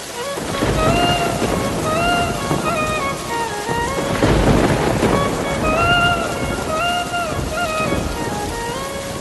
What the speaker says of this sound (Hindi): रात बीत जाती है और बारिश बहुत तेज हो जाती है।